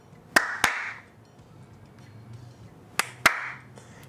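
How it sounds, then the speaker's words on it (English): Two pairs of sharp hand claps close to the microphone, used to test a COB LED strip's music sync mode, with quiet pauses between the pairs. "Clap, clap."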